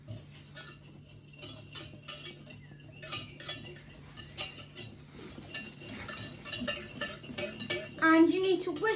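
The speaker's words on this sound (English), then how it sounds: "you need to whisk the butter and flour together to make it look like breadcrumbs" A metal whisk clinks and scrapes against a pan while butter and flour are whisked together, with irregular quick taps and stirring rattles up close, growing busier toward the end.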